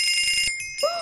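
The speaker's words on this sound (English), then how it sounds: "you always open the door when the doorbell rings" A Minecraft doorbell rings, a bright bell-like tone that holds briefly, dips, then returns with a rising ring, clear and close with no talk.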